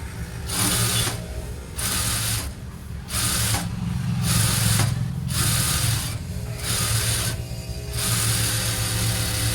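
A sewing machine stitches blouse lining cloth in loud, close bursts of rapid mechanical chatter, several runs separated by short pauses, with no one talking.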